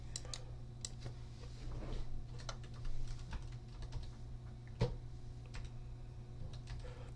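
Typing on a computer keyboard while entering a command in Windows, a quiet, steady run of small key clicks with a few louder taps over a constant low hum.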